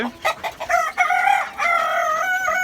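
Chickens on a rooftop garden cluck and squawk close by in short, loud, drawn-out calls, kept alongside ducks and pigeons.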